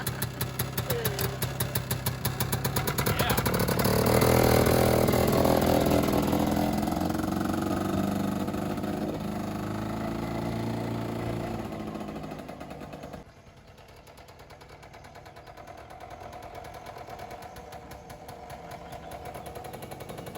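A Harley-Davidson scooter engine catches and runs with a steady, loud, close putter that swells early on, then settles to a lower idle for the rest, with no talking.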